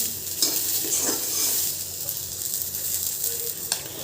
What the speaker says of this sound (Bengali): মটরশুঁটিটা ভাজা হয়ে গেছে